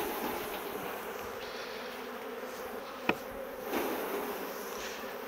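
Dense, steady buzzing of many bees fills the clip, with one brief tap partway through and no voices.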